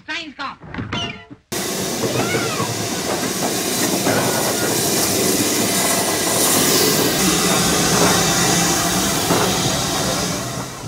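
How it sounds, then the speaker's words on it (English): A steam train pulls out of Goathland station, a loud steady roar of hissing steam and rolling wagons that fills the scene after a brief opening of voices, continuing evenly throughout. "We've just seen the train leave."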